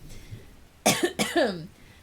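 A person coughs twice in quick succession, two harsh close bursts breaking an otherwise quiet moment.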